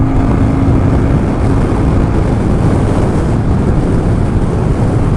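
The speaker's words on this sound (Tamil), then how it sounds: "காற்று பயங்கரமாக அடிக்குது" Strong wind buffets the rider during a fast Royal Enfield motorcycle ride, a loud, unbroken roar of wind noise across the whole stretch with no talk.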